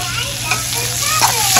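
Spinach and eggs cook down in a pan, giving a loud, close, continuous sizzle with faint stirring scrapes, all within under two seconds.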